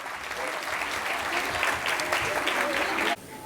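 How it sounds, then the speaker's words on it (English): A school audience gives a big round of applause at a secondary school event, a dense, steady wash of many hands clapping that stays loud and even before cutting off abruptly near the end. "A big round of applause once again"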